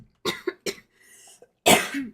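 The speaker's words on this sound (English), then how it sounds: "I am coughing and sniffling tonight, guys." A person coughs several times in short, separate bursts, close and fairly loud, with a sniffly throat-clearing sound between them.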